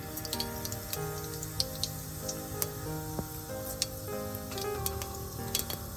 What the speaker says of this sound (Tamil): இப்போ எண்ணெய் சூடாகிட்டுது கடுகு சேர்ப்போம்